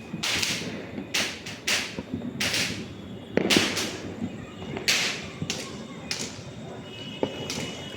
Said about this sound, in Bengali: তুমি বাজি ফাটানো দেখছো?